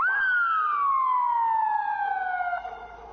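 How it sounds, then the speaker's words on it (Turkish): A police siren wails in a single loud, close sweep that slides downward over about three seconds and then cuts off, sounded to scare bears away from homes. "Ayıları evlerden uzak tutmak için siren çalınca ayılar daha da ürktü."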